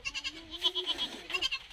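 A goat bleats in a short, wavering, nasal cry heard close and moderately loud, repeated in two quick pulses with no talk over it.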